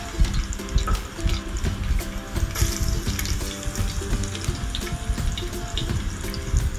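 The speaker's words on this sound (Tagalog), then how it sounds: "Magigisa po tayo as usual ng bawang at sibuyas" Garlic and onion being sautéed in a pan for a lunch dish, a loud, busy sizzle with clattering and splashy bursts throughout, close by and heard without talk.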